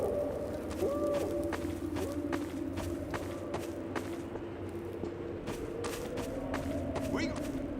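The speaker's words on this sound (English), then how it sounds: "We play custom footstep sounds when the player walks on the slippery mud." Footsteps squelch on slippery mud in Half-Life 2 along the canal route, a run of soft repeated thuds under steady background hum while someone talks over them.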